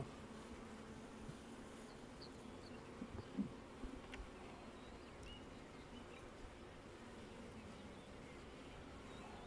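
Honeybees buzzing at a hive during inspection, a faint, continuous low hum with a few louder passing buzzes, no talking.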